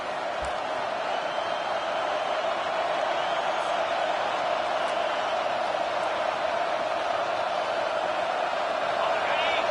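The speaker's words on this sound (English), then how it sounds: "Decibels rising as the crowd gets behind this defense on third down." Steady stadium crowd roar fills a college football video game on a third-down defensive stand, a constant wash of distant cheering with no distinct claps or calls breaking through.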